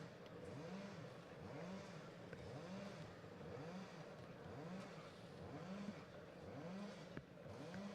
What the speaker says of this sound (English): You can hear engines revving away in the background.